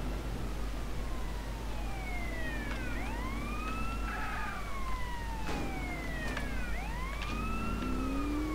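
Police car sirens from GTA San Andreas The Definitive Edition, out in the countryside during a motorcycle chase: several wailing sirens rise and fall and overlap continuously over a low engine rumble.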